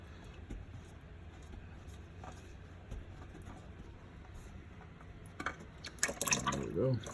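Engine oil starts draining from a 2017-2019 Honda Civic Type R during an oil change, a faint liquid trickle that builds into a closer, louder pouring splash in the final seconds over quiet garage background.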